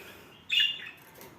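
A single brief, bright chirp comes from a rainbow budgerigar at moderate distance, set against a quiet room with faint background noise.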